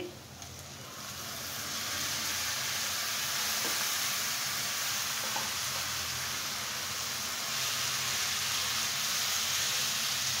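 Peeled bottle gourd skin and potato fry together in a pan, a steady, dense hiss that swells over the first two seconds and then holds loud and even.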